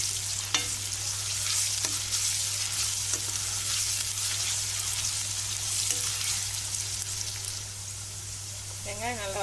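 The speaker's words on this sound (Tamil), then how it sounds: "வெங்காயம் நல்லா வதங்கிட்டுருக்கு." Onions and curry leaves fry in a pan for beef sukka, giving a steady, close sizzle with occasional stirring scrapes throughout.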